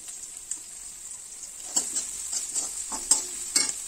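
Onions fry in a pan with peanuts and curry leaves, giving a soft, steady sizzle with intermittent scraping and clinks of a stirring spoon, close up and fairly quiet, with no talking.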